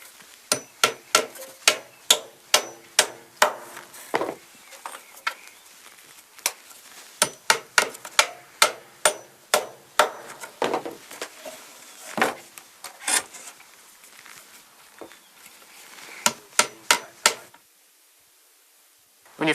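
Hammer blows drive nails into the wooden corner joint of a deep beehive super, a long run of sharp, close, evenly spaced strikes with short pauses between bursts, ending in a brief silence.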